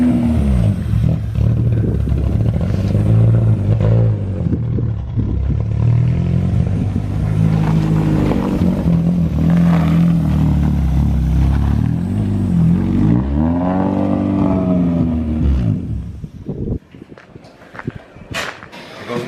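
Honda EG chassis car with a swapped H22 engine from a junkyard build running on its first start and drive, rising and falling revs across the clip with mechanical clatter, tapering into quieter idle near the end.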